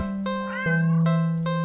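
A cat in a horror video game gives one loud, drawn-out meow with a rising, wavering pitch over a steady sustained tone.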